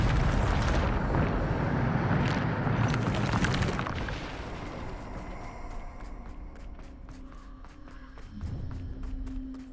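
Bombarda blasting spell in the video game Hogwarts Legacy: a heavy, booming explosion with a roaring rumble that fades over several seconds, followed by softer scattered impacts and debris.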